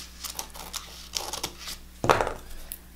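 Scissors cutting a paper sewing pattern around the neckline, heard as a handful of faint crisp snips with one louder, closer cut near the end, no talking.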